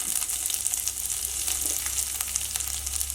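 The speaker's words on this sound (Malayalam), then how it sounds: "ഇതെല്ലാം ചേർത്ത് നന്നായിട്ടൊന്ന് വഴറ്റിയെടുക്കണം" Garlic, ginger and green chili sauté in hot oil in a pan for lemon pickle, giving a steady, close sizzle and crackle with light stirring throughout, and no voices.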